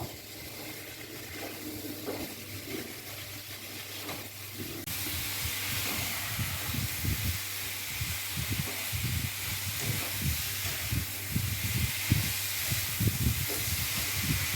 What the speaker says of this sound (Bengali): এখন আমি মশলার সাথে ভালো করে এটা ভাজবো